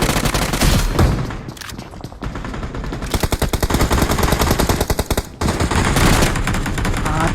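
Loud, close gunfire in the mobile battle royale game BGMI, with rapid bursts of shotgun and automatic shots rattling in quick, dense rhythm, briefly pausing between volleys.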